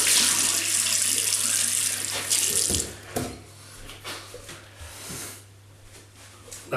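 Water runs from a bathroom tap while someone rinses off after a shave, a loud steady gush that eases off into softer splashes and hand movements.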